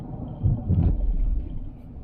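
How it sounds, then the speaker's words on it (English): Strong hurricane wind on the coast buffets the microphone with a deep, rumbling roar that swells and fades in gusts. "It's really windy out here."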